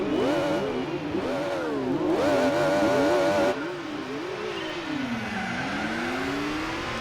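Race car engines in Gran Turismo 4, including a Nissan 350 GT, rev and shift through long gears, rising and falling pitch sweeps with a loud, close, continuous whine and no talk.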